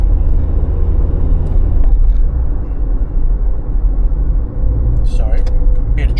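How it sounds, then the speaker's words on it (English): Road traffic rumbles past outdoors, loud and continuous, with heavy low engine drone and a brief hiss near the end, while someone is talking over it. "Sorry, bit of traffic."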